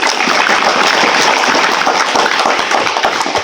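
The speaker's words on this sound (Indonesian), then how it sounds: "Tepuk tangan untuk keberhasilan ini." Crowd applause at an Indonesian high school flag ceremony commemorating Pancasila, a dense, loud, continuous clatter of many hands clapping with no pauses.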